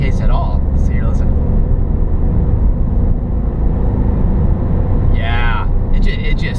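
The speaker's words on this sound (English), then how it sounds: "The intake roar and the turbo sound. Yeah. It is. It sounds awesome." Ford Fiesta 1.0L three-cylinder turbo engine pulling hard, a steady loud intake roar with turbo whine filling the cabin throughout, and voices talking over it in places.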